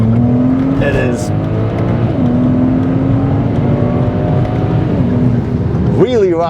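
A BMW 135i coupe with a turbocharged engine pulls hard from inside the cabin, a steady rising engine drone with tone shifts through gear changes, loud and close.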